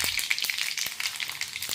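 Mustard seeds popping and spluttering in hot oil in an iron kadhai, with rapid sharp crackles and pops over a steady sizzle, close and fairly loud.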